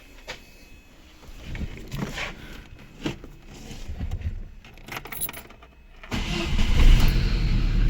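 A VAZ 2109 car engine cranks and catches near the end, settling into a steady idle after some keys jingle and clicks inside the vehicle; the car has a blown cylinder head gasket.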